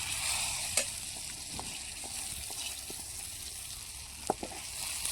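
Green cluster beans (gavar) tossed into hot oil seasoned with red chilli powder, giving a steady low sizzle with a couple of sharp pops and clinks of a spoon against the pan.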